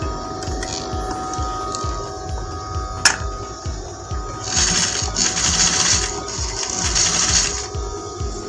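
A sewing machine stitches steadily across a men's African top collar, its rapid needle beating in a close, even rhythm, with a sharp click partway through and bursts of louder whirring later.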